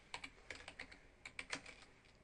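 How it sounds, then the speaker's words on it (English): Keys tapped on a computer keyboard while filling in work order notes in office software, a quick irregular run of close, crisp clicks with short pauses, no talking. "I don't type very well"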